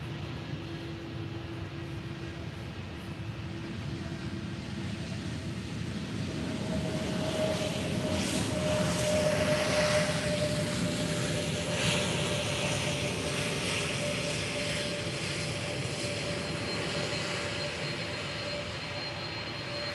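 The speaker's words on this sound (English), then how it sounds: "let's enjoy this Air Transat A321neo landing from Toronto" An Air Transat Airbus A321neo arriving from Toronto lands at Faro Airport, its steady broadband jet roar swelling toward the middle and holding on, with a faint engine whine tone running through it.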